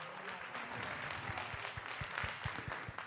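An audience at a Kumamoto city arts festival concert applauds a string trio, a dense and steady wash of clapping heard from a distance throughout, fairly faint, with a few sharper individual claps standing out.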